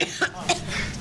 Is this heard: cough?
yes